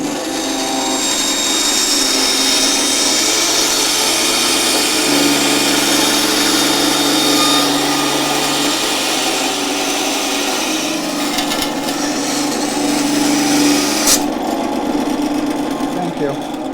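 A bandsaw cuts wood while shaping a Yamaha LL11 acoustic guitar part, giving a steady, loud, continuous whine and rasp that runs the whole stretch with little variation.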